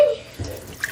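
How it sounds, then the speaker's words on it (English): Water runs from a kitchen tap during cheese making, a brief splashing rush lasting about a second, close and fairly loud. "Rowan, can you turn off the water?"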